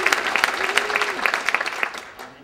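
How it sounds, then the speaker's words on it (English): Audience clapping at a San Francisco Arts Commission event, distinct individual claps from a modest crowd that build briefly then fade out, with a faint voice in the background. "So let's give another round of applause."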